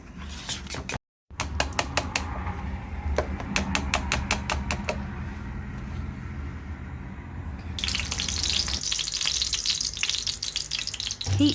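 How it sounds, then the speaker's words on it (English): Oil heats in a frying pan for a potato egg pancake with a steady soft sizzle, interrupted by a run of sharp clicks and taps and a louder, brighter hiss toward the end, with no one speaking. "Heat frying pan and add oil."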